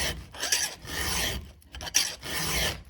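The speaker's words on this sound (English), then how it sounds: "So what we're going to do is just gently go through there and just straighten everything up." A metal file rasps across a chainsaw chain tooth in three close, steady strokes, each a harsh scraping pass with brief gaps between, and no one speaks.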